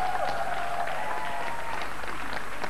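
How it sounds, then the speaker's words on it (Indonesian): A studio audience on the Malaysian game show Roda Impian applauds the players, a short burst of dense clapping over a steady tonal background. "Kita berikan satu tepukan untuk semua pemain-pemain kita."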